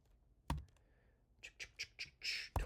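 Computer keyboard typing comes in a sharp thump, then a burst of rapid clicking keystrokes, close and alone with no talk.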